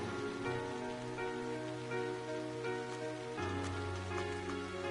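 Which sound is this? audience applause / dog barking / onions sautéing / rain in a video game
rain in a video game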